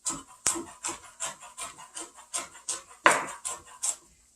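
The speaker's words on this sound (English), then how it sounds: "Okay, so now we have a little bit of chopping. This is 1 green onion." A knife chopping one green onion on a wooden board, a steady run of about a dozen close, crisp thuds at an even pace, one slightly harder strike near the end, with no talking.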